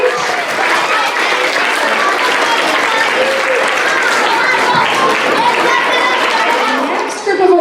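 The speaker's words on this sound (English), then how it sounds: "let's give these boys and girls a big round of applause as they make their way off the stage" An audience applauds at a school quarterly awards ceremony as students walk off the stage: dense, sustained clapping from a large crowd with chatter and voices mixed in, holding steady and easing slightly at the end.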